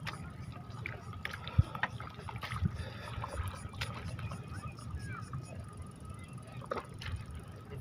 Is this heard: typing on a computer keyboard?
no